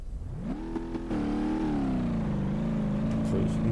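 A 1972 Gavril Bandit's engine in BeamNG.drive revs up steadily, its rising harmonic drone climbing and holding at a loud, continuous roar for a few seconds.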